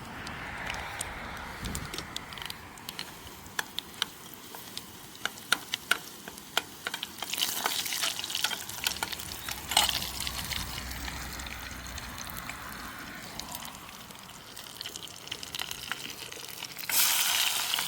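Chutney hits a hot pan with onions and turmeric and fries, a steady close sizzle with scattered ticks and clinks of stirring and a louder spitting burst late on.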